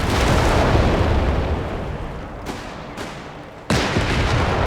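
Anti-tank gun shots striking engineers in Company of Heroes 3, dense rumbling battle noise with sharp shell impacts, a few distinct cracks and one loud boom near the end, no talk.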